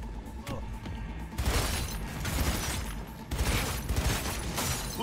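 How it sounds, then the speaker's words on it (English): Gunshots in Cyberpunk 2077 go off in two or three loud bursts of cracking, crashing fire over a dense game soundscape, with no talk. "Whilst you're looking, I'm just going to shoot this guy."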